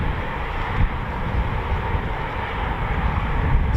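Eurofighter Typhoon FGR4 jet flying a practice display at an RAF QRA station, a loud continuous roaring rumble of jet engine noise with no voices.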